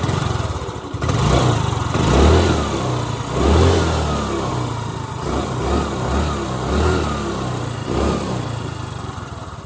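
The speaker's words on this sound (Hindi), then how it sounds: "एक तो यामाहा के इंजन की आवाज़ इसकी ऐसी है कि अगर रोड पर कहीं भी चल रही हो ना" A 2018 Yamaha Alpha scooter engine revving, several throttle blips rising and falling in a rough, uneven rhythm over a steady idle, close and loud with no talk.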